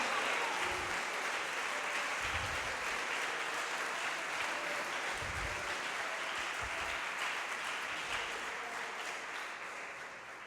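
Church congregation applauding together in sustained, steady clapping that fills the space, with a slight fade toward the end and no talk over it.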